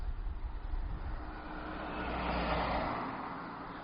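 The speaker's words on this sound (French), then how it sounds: "Hop, et une voiture." A car passes along a village road near Saint-Denis-lès-Rebais, a broad engine and tyre rumble that swells to a peak midway and fades, heard outdoors with no talking.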